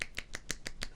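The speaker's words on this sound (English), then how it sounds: "I can clap with one hand." Six sharp, crisp one-handed claps in steady rhythm, close and clear, each a quick bright snap with no talking over them.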